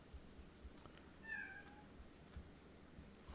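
A pet cat gives a single faint meow in the background of a quiet room, a brief rising-falling cry with low room noise around it.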